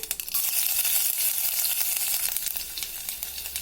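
Mustard seeds, cumin, ginger and garlic frying in hot oil for dal khichdi give a loud, steady sizzle with crackling pops throughout, and no one speaks.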